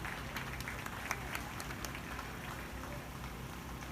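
A crowd at a youth beef market show applauds the crossbred steer exhibitors, giving scattered, faint, distant clapping with a few sharper individual claps over a steady background hum.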